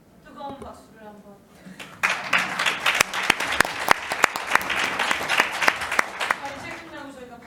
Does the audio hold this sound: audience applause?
yes